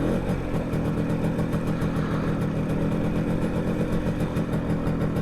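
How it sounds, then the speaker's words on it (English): An MZ TS125 motorcycle engine revs while stopped at traffic lights, giving a steady, close, continuous mechanical drone throughout with no speech. "Sitting at the lights, revving up my"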